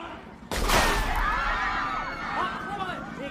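A police gunshot cracks out suddenly during a hostage standoff scene in a Japanese film. The sharp bang is followed by a long, loud, noisy wash of sound with voices underneath.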